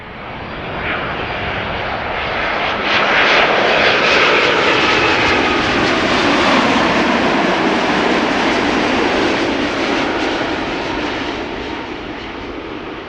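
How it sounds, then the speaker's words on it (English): A Belgian-registered Boeing 787-8 Dreamliner on arrival at Amsterdam Schiphol gives a loud, sustained jet roar that swells and holds steady across the whole stretch, with no voices. "7878 Dreamliner"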